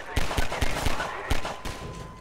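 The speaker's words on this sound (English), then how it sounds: "Who's shooting at me?" Gunfire in the video game Half-Life 2, a rapid series of about half a dozen sharp shots fired in quick succession, loud and close, with a brief pause before the final bursts.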